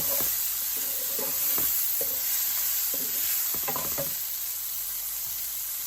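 Fish and vegetables frying in a pan with a steady hiss, broken by several stirring and scraping knocks from a utensil close by.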